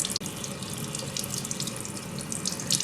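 Makeup brushes being rinsed under a running tap, a steady splashing rush of water into a sink with fluttering changes as the bristles move through the stream, close and continuous, no speech.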